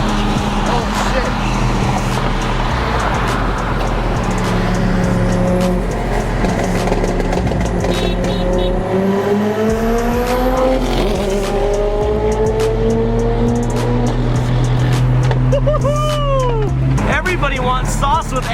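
Cars race past at a crowded street car meet, engines revving with rising and falling pitch sweeps and brief tire squeals, loud and continuous beneath a noisy crowd with people talking and shouting throughout.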